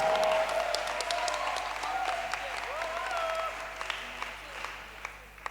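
Church congregation applauding Jesus, a steady wash of clapping from a crowd in a hall that tapers off toward the end, with voices mixed in.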